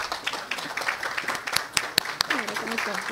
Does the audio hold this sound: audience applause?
yes